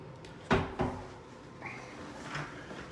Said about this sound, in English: Pocket doors.